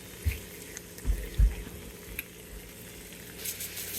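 Half a pound of ground beef seasoned with smoked salt frying in a pan for breakfast, a steady close sizzle with a few louder thumps and scrapes of stirring, no voices.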